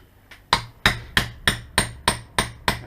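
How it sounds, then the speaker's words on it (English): Hammer tapping a pin through a Tanfoglio pistol, eight sharp, close metallic taps in an even rhythm, each ringing briefly before the next. "Now we can tap that pin all the way through"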